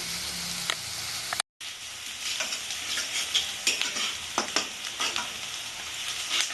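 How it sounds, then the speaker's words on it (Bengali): Onions sizzle and crackle in a hot pan, a continuous frying hiss with scattered sharp pops and stirring clicks, after a brief silent gap. "পেঁয়াজটা আমি লাল লাল করে ভাজবো এখন"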